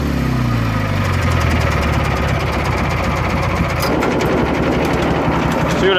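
Engine of a Craftsman GT6000 lawn tractor idles down close by, a loud steady chugging and knocking rumble with rattly vibration that settles lower partway through, with no talk over it.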